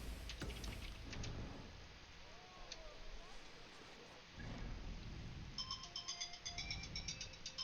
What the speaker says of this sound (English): Phone's ringing, honey.